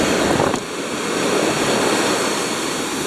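Steady, loud wind buffets the microphone at a beach during surf casting, with a continuous roar of surf beneath it and no voices.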